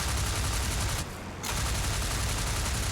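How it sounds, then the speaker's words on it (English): Rapid continuous gunfire from a flight video game roars as a dense, loud burst that briefly drops out for a moment before the sustained firing resumes. "sounds like you're firing at something"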